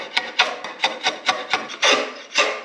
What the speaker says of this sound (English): the noise of dragging a draw knife through the early wood, that porous, chalky wood, it's kind of like a scraping